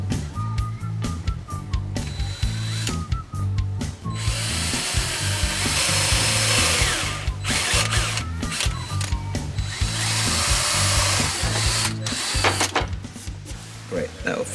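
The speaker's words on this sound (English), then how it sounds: "Now ready to drill. I'll drill them exactly the same size as those." A power drill whines and bores into wood in repeated bursts, drilling dowel holes in flat-pack furniture, loud and close, with pauses between runs and a brief voice.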